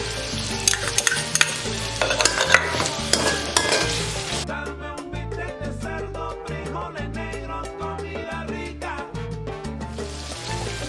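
Garlic sizzles and fries in a pan while being stirred, part of cooking Puerto Rican pigeon peas with coconut milk; steady close sizzle with repeated scraping stirs, louder in the first few seconds.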